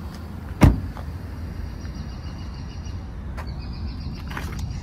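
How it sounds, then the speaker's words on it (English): The door of an upfitted 2014 Chevrolet Tahoe police interceptor opens with a single sharp latch click, followed by a soft, quiet mechanical whir and faint outdoor background. "The locks are enabled, so you can easily open the door."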